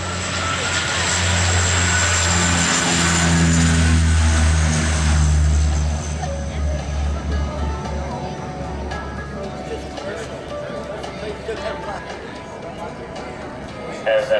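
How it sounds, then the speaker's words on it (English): The US Army Golden Knights parachute team's C-147, a Bombardier Dash 8 turboprop, roars loudly on its takeoff roll at an air show, with a steady propeller drone that swells and then eases, while an announcer talks over it. "That is the C-147 of the United States Army Parachute Team, the Golden Knights, on the takeoff roll."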